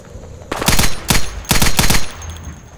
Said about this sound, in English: How many times did I have to shoot you?